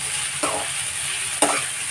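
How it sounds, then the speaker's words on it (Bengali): Ingredients for dry chili chicken sizzle steadily in hot oil, with two sharp stirring scrapes of a spatula cutting through the constant frying hiss. "এগুলো এবার আমি তেলে ছেড়ে দিচ্ছি। দিয়ে ভালো করে নাড়তে হবে"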